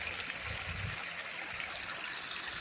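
Water pumped by an irrigation motor on a farm field flows and gushes steadily, with a constant close rushing hiss and a low rumble underneath and no talking.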